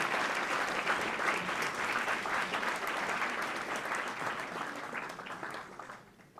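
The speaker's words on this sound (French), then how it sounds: "Ok, on peut les applaudir une dernière fois." An audience at a live Kino Grenoble film event applauds the team behind a film, with dense, continuous clapping that slowly fades over about six seconds.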